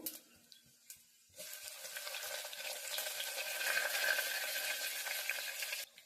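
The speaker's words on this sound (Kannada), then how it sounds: "ಇವಾಗ ಎಣ್ಣೆ ಕಾದಿದೆ, ಅದಕ್ಕೆ ಸ್ವಲ್ಪ 1 ಸ್ಪೂನ್ ಅಷ್ಟು ಜೀರಿಗೆ ಹಾಕೊಳ್ಳೋಣ. 1 ಗೆಡ್ಡೆಯಷ್ಟು ಬೆಳ್ಳುಳ್ಳಿ ಹಾಕೊಂತ ಇದ್ದೀನಿ." Cumin seeds and garlic dropped into hot oil, first a few faint stirs and taps, then a loud, steady crackling sizzle that swells and holds for several seconds before cutting off abruptly.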